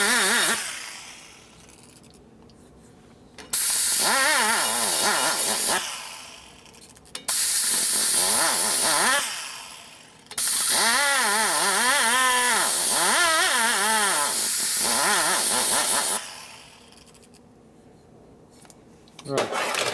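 A rotary tool grinds and smooths new Harley 110ci S.E. cylinder heads in bursts of several seconds, a loud whining hiss that rises and falls with speed, with someone talking between the passes.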